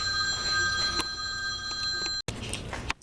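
A telephone rings with repeated electronic bell tones, fairly faint and indoors, cut by a brief silent gap before ringing resumes near the end.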